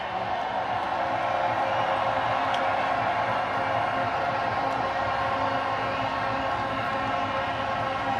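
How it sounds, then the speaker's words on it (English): A large stadium crowd roars and applauds continuously for Rohit Sharma's Indian team after their T20 World Cup final win over South Africa, a dense, loud, unbroken wash of noise. "Round of applause one more time for Rohit Sharma and his men."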